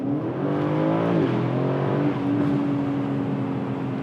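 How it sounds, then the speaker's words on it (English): A loud Aston Martin DB11 Volante twin-turbo V8 exhaust rumbling and revving up and down in sports mode, close and continuous, with a deep throaty drone and no talking. "let's just revert back to sports mode momentarily because the exhaust note is, well, it's worth hearing"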